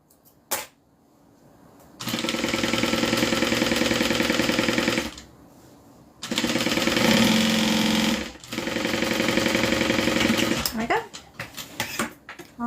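Sewing machine back stitching the sides of a fabric drawstring dust bag, three loud, steady mechanical runs of rapid stitching separated by short pauses.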